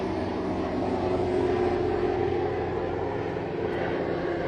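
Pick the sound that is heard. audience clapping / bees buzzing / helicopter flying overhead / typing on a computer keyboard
helicopter flying overhead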